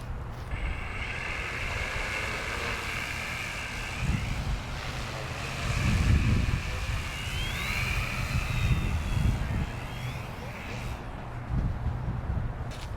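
A large foam radio-controlled plane drones steadily overhead, its motor whine rising and falling in pitch as it passes, with wind rumble swelling and gusting through the middle of the flight.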